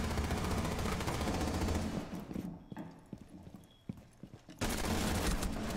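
Rapid gunfire from a team-based video game shooter, loud bursts of shots filling the opening and closing seconds with sparser single cracks in between.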